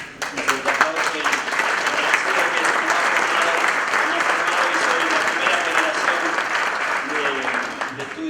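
A conference audience at a labor congress in Buenos Aires province breaks into strong, sustained applause, dense and even for several seconds with little else audible.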